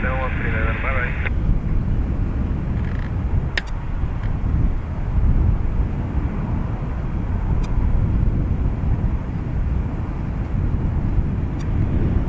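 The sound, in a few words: Ryanair airliner taking off from runway 28 right at Dublin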